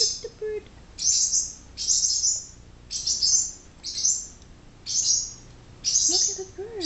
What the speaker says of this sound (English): Look at the bird, look.